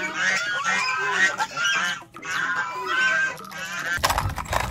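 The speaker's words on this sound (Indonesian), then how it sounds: "ada angsa teman-teman." A goose honks loudly and close, in a run of harsh, repeated calls that nearly fill the clip, with a noisy burst at the end.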